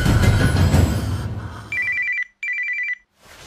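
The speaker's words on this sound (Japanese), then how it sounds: "これは携帯といって。" A mobile phone ringtone sounds in two bright electronic bursts after a noisy opening stretch, close and clear, with a short gap between the rings and quiet afterward.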